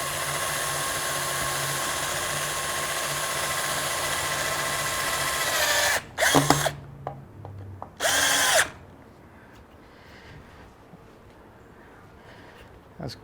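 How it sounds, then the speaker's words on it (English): A power drill whirs steadily for several seconds, then gives two short bursts as screws bite into a wooden deck post, followed by quiet. "I'm just going to put a couple screws in"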